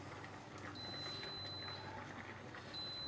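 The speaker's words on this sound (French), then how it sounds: "j'entends la sonnerie des pâtes" Faint high electronic beeps from a kitchen timer ring out in two short bursts over a quiet room hum.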